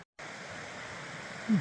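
Steady broadband rushing of a flowing stream, even and unbroken, heard from a short distance at a campsite after a brief silence.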